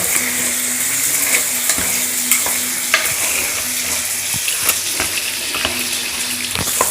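Chicken for biryani fries in a pan, a loud continuous sizzle with repeated scraping stirs of a spatula against the metal, close up and without speech.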